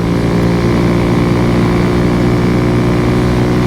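A Kawasaki Z125 Pro motorcycle runs wide open at about 8,500 RPM on a slight downhill, its small single-cylinder engine a loud, steady, buzzing drone with no talk over it.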